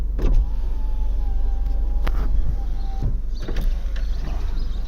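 The electric window motor of a Peugeot 206cc whirs steadily as the glass slides, with a couple of thuds and clicks as it stops and starts again.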